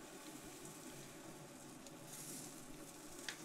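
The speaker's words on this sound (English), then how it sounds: "The sizzling." Food sizzles steadily in a hot pan, a continuous close hiss with faint crackles and one small pop near the end, no voices.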